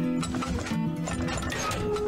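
Several horses trotting in the oil-drilling strategy game Turmoil, a steady busy clip-clop of hooves with an occasional whinny, close and continuous under game music.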